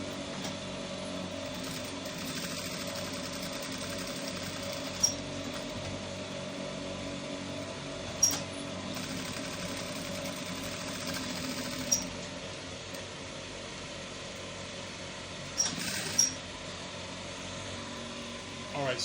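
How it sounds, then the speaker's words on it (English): A sewing machine whirring steadily for a long stretch, an even mechanical hum with a few brief clicks now and then. "we now go to our sewing machine and we now sew this round"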